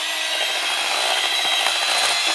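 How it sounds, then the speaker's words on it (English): A spoon scraping the sides of a mixing bowl while a mixture is stirred, heard as a steady, close, hissy rasping friction with small irregular scrapes running throughout, no voices. "stop intermittently to scrape the sides of your bowl with your spoon"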